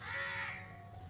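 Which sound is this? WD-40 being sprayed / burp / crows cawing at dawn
crows cawing at dawn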